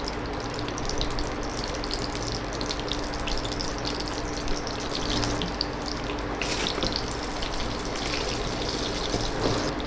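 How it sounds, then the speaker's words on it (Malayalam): Prawn cutlets shallow frying in a little hot oil, a steady close crackling sizzle with a watery hiss that runs on evenly throughout, with no talking. "നമുക്കതുകൊണ്ട് എണ്ണ കുറച്ച് മതിയല്ലോ ഷാലോ ഫ്രൈക്ക്"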